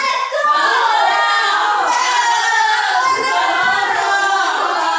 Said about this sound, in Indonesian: Berdua tepuk tangan.